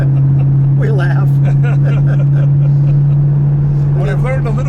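The supercharged 5.4-liter V8 of a 2006 Ford GT, fitted with an aftermarket exhaust, hums as a steady, loud low drone from inside the car while people talk over it throughout.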